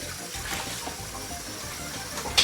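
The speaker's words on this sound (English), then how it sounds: "I need to wash my hands" Tap water runs steadily into a kitchen sink as hands are washed during a baking session. The flow makes a constant hiss, with a brief louder splash at the very end.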